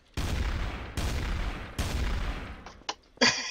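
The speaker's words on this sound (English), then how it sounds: "I hear gunshots." Three loud gunshot blasts fired in a Trouble in Terrorist Town match, each with a long decaying boom, followed by a few shorter sharp shots near the end.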